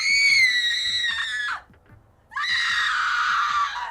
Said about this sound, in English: a lot more sounds like an individual woman screaming